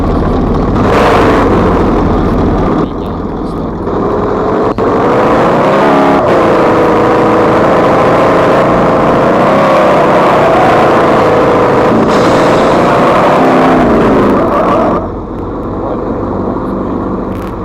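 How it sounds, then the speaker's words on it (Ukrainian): A jeep engine in the sandbox game Simple Sandbox 3 drones steadily and loudly for most of the stretch, swelling into revs midway before cutting off near the end and then resuming. "Дивіться, перший такий джипик у нас."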